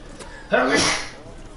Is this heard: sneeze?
yes